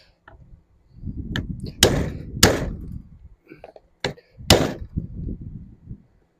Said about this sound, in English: So I'm just going to use my 4-prong chisel,